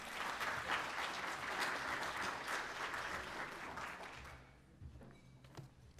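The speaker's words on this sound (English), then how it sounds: "So please give Dr. Bass a warm round of applause." An audience at a liver transplant conference applauds with full, steady clapping for about four seconds before it fades to a few scattered claps and footsteps.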